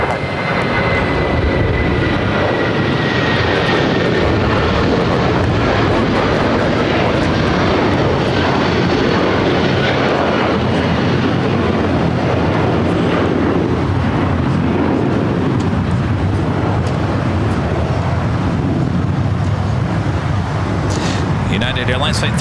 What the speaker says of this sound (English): United Airlines Flight 1331 heading to Newark in that 757 at 300